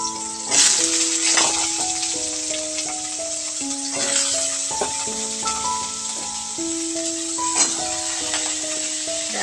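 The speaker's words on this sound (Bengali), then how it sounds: "এদিকে কড়াইও বসিয়ে দিয়েছি, তার মধ্যে তেল দিয়ে ফোড়নে দিয়েছি।" Oil and whole spices crackle and sizzle steadily in a hot wok during tempering, a loud continuous frying hiss with popping bursts, alongside a melodic tone pattern in the background.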